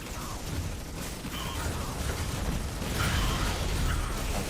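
Weapon shots in a multiplayer video game match, heard as a dense, busy wash of in-game effects with a few muffled bursts and pops rising over it, no voice present.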